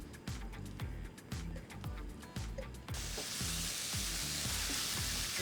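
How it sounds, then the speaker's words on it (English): Calrose rice frying in a hot pan, a steady loud sizzle that swells into a dense, continuous hiss, with rhythmic low scraping knocks from stirring throughout. "we're going to start frying the rice"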